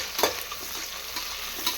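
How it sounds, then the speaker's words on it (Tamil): Onions and green chillies frying in a pan for mushroom biryani, a continuous sizzle with intermittent scraping strokes of a spoon stirring them, close and moderately loud with no voices. "நல்லா வதக்கிடுவோம்."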